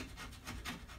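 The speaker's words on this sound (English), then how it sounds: "But when you scrape off this stuff," Scraping old finish off a wooden spindle chair, a steady rasping rub of a scraper across wood in short repeated strokes, close and fairly quiet with no talking.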